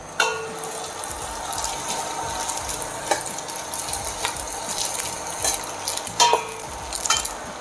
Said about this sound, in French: on va venir saisir notre chorizo dans notre huile de pépins de raisin